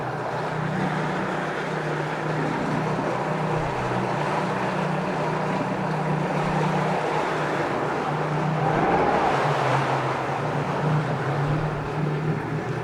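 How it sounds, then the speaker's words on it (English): A 2004 Yamaha 90hp four-stroke tiller outboard motor runs in neutral at a steady idle, a close, even mechanical hum with a slight swell partway through, no talking over it. "Great running motor."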